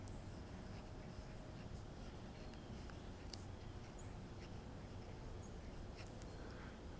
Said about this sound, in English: this pen has a medium nib, a medium gold nib, and let me just demonstrate that a little bit. This is on Tomoe River paper.